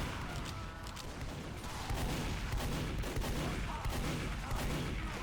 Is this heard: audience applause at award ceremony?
no